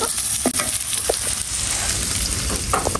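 Potatoes, onion and chili fry in a wok with a steady broadband sizzle, broken by a few brief stirring scrapes and clinks; the frying stays loud and constant throughout, with no talking.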